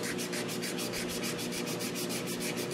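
Rhythmic back-and-forth rasp of sandpaper on a cherry wood bowl, steady and close, with even strokes repeating about six times per second and no talking.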